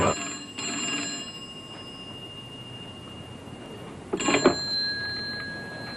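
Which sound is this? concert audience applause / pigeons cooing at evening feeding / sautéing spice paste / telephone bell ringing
telephone bell ringing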